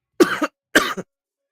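A man coughs twice in quick succession, two short dry bursts close to the microphone, followed by silence.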